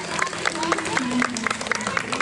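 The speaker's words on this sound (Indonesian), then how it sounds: "Tepuk tangan dulu dah buat kita semua dari sini." Crowd applause and cheering at a night rocksteady music festival in Makassar, a steady wash of clapping with scattered shouts and whistles, mid-distance and continuous.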